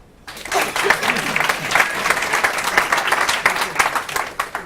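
An audience at a tech event claps as the next presenter is called up, applause starting abruptly and continuing with a dense patter of individual claps at fairly strong, fluctuating loudness.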